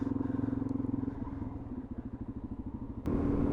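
A Suzuki DRZ400 motorcycle with a noisy exhaust idles close by with a loud, rapid pulsing thump, then gets a sharp throttle blip near the end that jumps to a harsher, steadier roar.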